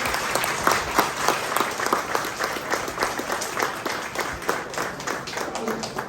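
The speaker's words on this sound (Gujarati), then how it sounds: "કામના માટે ખરેખર જોરદાર તાળીઓ વગાડી." Audience applause at a school open day event, dense sustained clapping from a sizeable crowd, steady and fairly loud throughout with no break.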